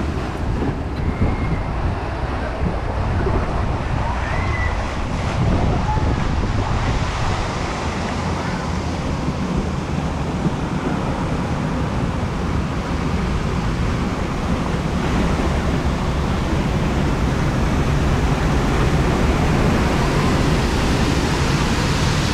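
Steady loud rushing and splashing water on the Fjord Rafting river ride at Europa Park, a continuous roar with wind buffeting, riders talking over it.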